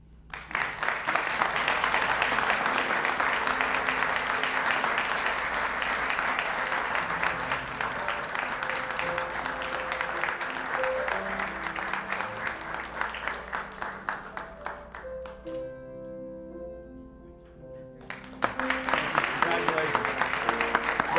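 Loud, sustained applause from an awards ceremony audience with some cheering, continuous for most of the clip, dipping briefly before swelling again near the end.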